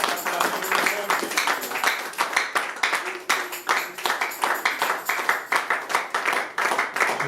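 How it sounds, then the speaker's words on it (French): Church congregation clapping and cheering for God at a Sunday service, steady rhythmic handclaps in quick repeated bursts over continuous crowd voices and singing, fairly loud and close throughout. "Aide-moi à acclamer pour mon Dieu."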